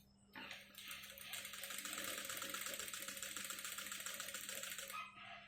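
A sewing machine stitching a blouse with thin thread, a fast steady mechanical clatter with a constant hum, running close and continuously for about five seconds before stopping, no voices over it.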